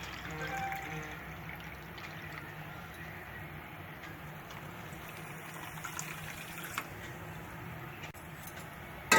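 Water is poured into sugar in a kitchen pan to make syrup for jangiri, a steady running-liquid wash lasting several seconds with no talk over it.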